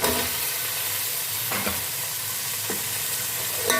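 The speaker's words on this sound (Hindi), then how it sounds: "अच्छे से भूनेंगे टमाटरों को मेल्ट होने तक।" Tomatoes with turmeric, crushed chilli and salt fry in a pan for cabbage sabzi, giving a steady close sizzle with occasional stirring scrapes and no talking.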